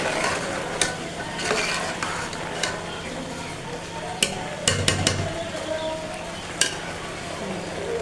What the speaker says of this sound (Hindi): और हम फिर इसको करते हैं फ्राई।